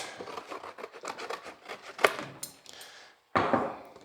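Scissors cutting through cardboard while shaping a template for a rotten fender on a 1951 Ford, a run of close, rhythmic crunchy snips and rasps, then a brief pause before a louder final cut.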